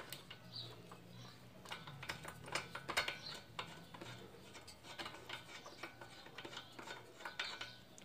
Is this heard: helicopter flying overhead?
no